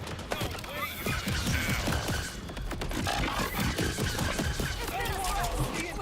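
Rapid gunfire bursts from a heavy-recoil weapon in the video game Borderlands 4, loud and dense throughout amid other game effects, with people talking over it.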